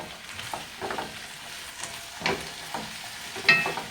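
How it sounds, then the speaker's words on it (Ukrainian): Vegetables fry in a pan for a cabbage soup with onion, a steady close sizzle with occasional stirring scrapes and clinks and no talk. "А ми підсмажуємо овочі."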